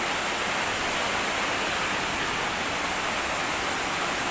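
Dikisit Falls near Baler, Aurora, roars as a steady, dense wash of falling water, loud and unbroken throughout with no other sounds standing out.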